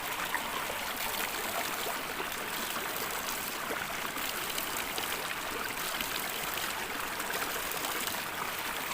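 A natural spring in Cumba, Batangas, trickles and burbles continuously close by, a steady soft wash of flowing water with no voices.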